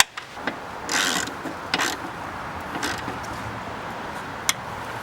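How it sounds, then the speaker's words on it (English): Ratchet tightening a 10mm airbox hold-down bolt on a BMW E39 with an M54 engine, scattered short clicking bursts and rubbing sounds at close range, no talking. "And secure our 10mm hold down bolt for the airbox."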